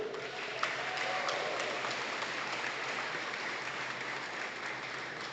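An audience in a hall gives sustained applause for a Bentonville High School Athletic Hall of Honor inductee, a dense, even wash of clapping lasting throughout.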